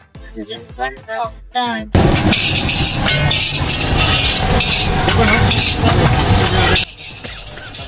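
Egg fried on both sides in a pan at a street food stall: after a couple of seconds of talk, loud, dense sizzling and stirring fills about five seconds, then drops away sharply.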